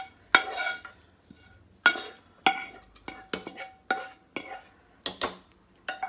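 Clattering metal-on-metal clinks and scrapes as fried onion, tomatoes and masala are tipped and stirred into a cooker for vegetable sambar, irregular bursts close by with no talking.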